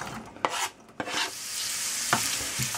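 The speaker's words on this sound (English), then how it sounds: "Then we add the onion to the pan." Chopped onion hitting hot olive oil in a pan, a bright sizzle rising after a few quick scrapes and clatters of stirring, close and alone with no talk.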